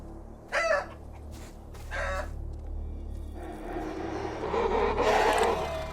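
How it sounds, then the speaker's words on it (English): Chicken clucking in the video game ELEX II: two short, sharp clucks sound close and clear over a steady low hum, followed by a swelling, noisy rush of game ambience. "Not the chicken!"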